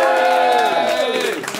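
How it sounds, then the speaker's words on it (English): A concert crowd at a gig cheers and shouts continuously, loud and close, with voices rising and falling together. "please give them a cheer."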